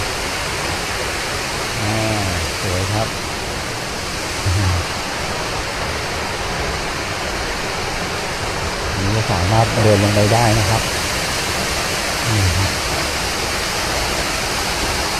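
Kroeng Krawia waterfall in Khao Laem National Park, Kanchanaburi, Thailand, roars in a constant, loud hiss throughout, while someone speaks now and then over the rushing water.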